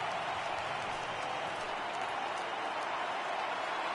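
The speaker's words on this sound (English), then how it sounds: "listen to this crowd now. They are really into this." A baseball stadium crowd roars steadily during a late rally with the bases loaded, a dense continuous wash of cheering and applause at an even level throughout.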